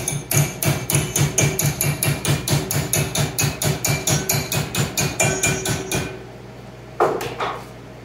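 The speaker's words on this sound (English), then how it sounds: "set it in my vise and pound it over with a hammer" A hammer pounds sheet metal held in a vise, bending a rear door skin, in a fast, steady rhythm of about two dozen loud ringing blows, then stops, followed by a couple of scattered clanks.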